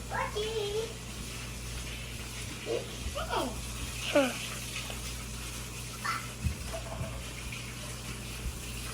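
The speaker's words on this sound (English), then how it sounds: "So rinsing off all the sand off everything." Running water rinsing sand for a 75-gallon African cichlid aquarium, a low steady gush under quiet, scattered voices including a child, fairly faint.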